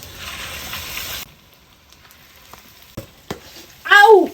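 Fish roe pakoras sizzling in hot oil in a home kitchen, a steady loud frying hiss that cuts off abruptly, followed by quieter clinks and a voice.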